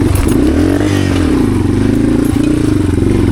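A Yamaha TW200 motorcycle engine running rich, a loud steady single-cylinder thump up close with pitch rising and falling as it pulls, alone with no voices.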